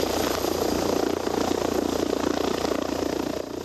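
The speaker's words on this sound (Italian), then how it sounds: "sul posto anche l'elicottero di Treviso Emergenza" Rescue helicopter of the Treviso Emergenza service at the scene of a multi-truck pileup on a motorway, its steady rotor and engine roar loud and continuous throughout.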